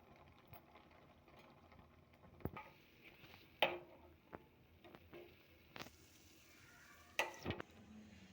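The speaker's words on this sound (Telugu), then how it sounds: "కట్ చేసుకు పెట్టుకున్న బ్రెడ్ ముక్కలన్నీ డీప్ ఫ్రై చేసుకోవాలి" Bread pieces deep frying in hot oil give a faint, steady sizzle, broken by a few soft clinks and scrapes from handling.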